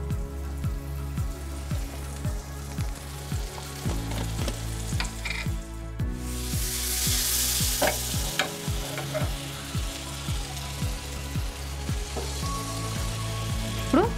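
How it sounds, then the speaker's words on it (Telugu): Butter tadka sizzling and frying in a pan for pav bhaji, a steady crackling hiss with regular stirring scrapes throughout, close and fairly loud with no talking. "ఇప్పుడు భాజీ కోసం తడకా తయారు చేసుకుంటున్నాం"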